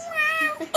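A young child imitates a cat's meow with one drawn-out, rising-and-falling vocal 'meow' up close, followed by a brief higher squeak at the end.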